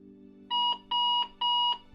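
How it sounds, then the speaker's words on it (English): Electronic alarm clock beeping in three steady, loud pulses, each about a quarter second long and evenly spaced, over a low steady hum, with no voices. "I have my alarm clock set in the morning."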